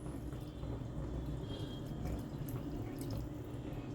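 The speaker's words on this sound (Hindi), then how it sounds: "यहाँ पर हम पानी डाल देते हैं।" Water poured into a cooking pot of urad dal, a steady, fairly quiet splashing and trickling stream that runs continuously without pause and with no voices over it.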